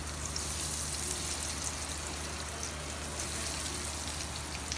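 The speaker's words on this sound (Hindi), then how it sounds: "अब हम इसमें कबाब को फ्राई करना स्टार्ट करते हैं।" Potato and beef mince kebabs frying in hot oil in a pan, giving a steady, dense sizzle and crackle that runs evenly throughout with no talking.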